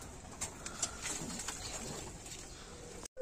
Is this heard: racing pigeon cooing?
yes